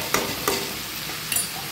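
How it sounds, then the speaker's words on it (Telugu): Tomato pieces fry in a pan with a bright, close sizzle. A few sharp utensil stirs punctuate the short burst. "బాగా వేయించుకోవాలి."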